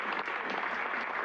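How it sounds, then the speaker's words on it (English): A brief burst of steady crowd applause in the video game Immortality, dense clapping at an even level throughout. "Everyone, a big round of applause."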